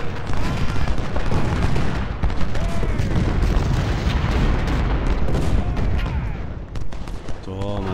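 Dense, continuous battlefield roar from the Civil War strategy game Ultimate General: Civil War at the Battle of Fredericksburg, with heavy cannon booms and volleys of musket fire overlapping loudly throughout and no clear pauses.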